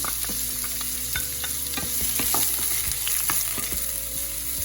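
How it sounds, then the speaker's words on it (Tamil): Garlic and onion sauté in hot oil for a Chettinadu-style fry, with a loud, continuous sizzle broken by repeated scraping knocks of a spoon stirring in the pan, close up and without speech. "பூண்டு வதக்கின உடனே இமீடியட்டாக வெங்காயத்தை போட்டு நல்லா வதக்கிக்கோங்க."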